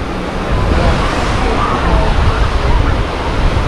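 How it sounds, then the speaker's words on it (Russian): Sea waves and surf roll onto a beach at Anapa on a windy, hot day, giving a continuous loud washing roar with wind buffeting throughout. "Волны появились."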